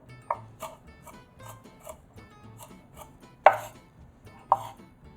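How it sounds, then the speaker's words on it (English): A knife chops onions into a small dice on a cutting board, giving quiet, evenly spaced taps with two sharper, louder knocks near the end. "we're just going to run our knife through the onions until they're diced very small"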